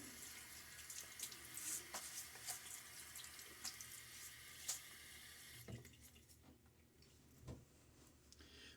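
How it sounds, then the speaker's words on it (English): Water running from a bathroom tap into a sink while the face is wetted before shaving, a steady splashing stream that thins out partway with a few drips and clicks. "let me get my face wet."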